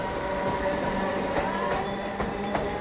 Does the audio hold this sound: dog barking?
no